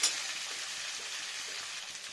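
A boiled potato going into a hot pan of Bengali rui fish jhol, giving a steady soft sizzle close by that holds evenly throughout, with no talking.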